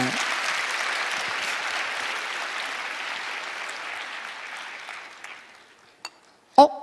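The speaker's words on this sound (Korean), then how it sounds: "좀 박수 좀 쳐주세요, 신나게." Sustained applause from a church prayer-meeting crowd, steady and fairly loud, fading out toward the end, followed by a couple of sharp knocks.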